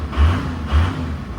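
A 1989 Toyota Land Cruiser HJ61 with a 4.0L 12H-T turbo diesel gets two short, light throttle blips inside an enclosed building, each rising briefly above a low, rumbling idle.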